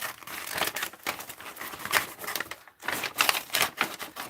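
Scissors snipping down and across the side gusset of a paper bag for an art journal project, a quick run of close, crisp cuts and paper crinkles with a brief pause partway through.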